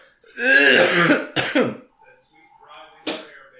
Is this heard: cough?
yes